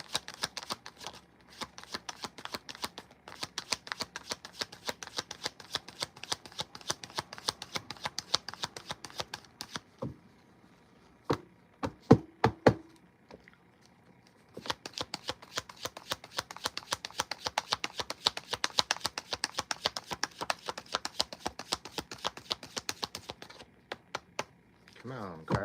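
Tarot cards shuffled by hand in long rapid bursts of crisp riffling clicks, close and clear, broken by a short pause with a few louder taps before the shuffling resumes.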